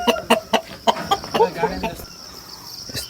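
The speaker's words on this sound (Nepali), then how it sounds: "लोकल कुखुरा भाले" A local rooster and hen in a hill village garden: a run of rapid, loud clucks close by during the first two seconds, then quieter ambience with insects and a faint final cluck.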